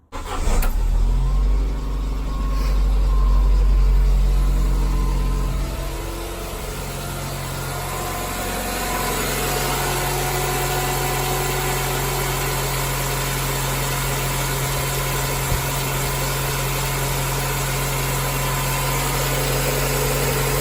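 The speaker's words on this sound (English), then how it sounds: "That engine note though" An EnduroKa race car engine starts, revs briefly, then settles into a steady, even idle hum as it warms up, continuing throughout.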